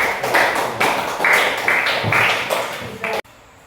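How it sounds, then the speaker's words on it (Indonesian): Classroom applause for a student group, with several loud bursts of clapping in quick succession that break off abruptly into near silence. "berikan tepuk tangan dulu untuk kelompok"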